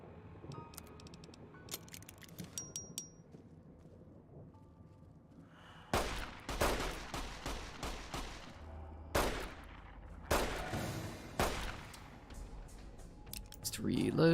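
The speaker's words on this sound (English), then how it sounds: "I guess I'll actually shoot him" Rapid gunfire from weapons in Fallout New Vegas, with sharp broadband bursts in clusters and quick repeated shots close and loud, following a quieter stretch of game ambience.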